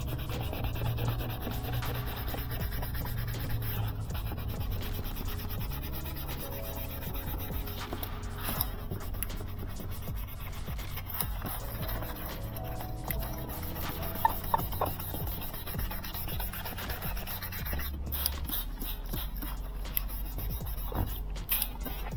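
Continuous hand sanding on a 2013 Nissan Juke car body, steady back-and-forth friction with occasional creaks and taps, no talking.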